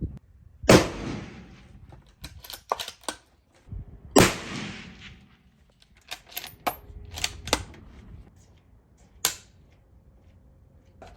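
Mossberg Patriot .308 rifle fired outdoors, with two loud sharp shots a few seconds apart followed by lighter clicks and handling knocks from the action, no talking.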